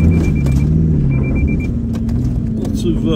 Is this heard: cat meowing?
no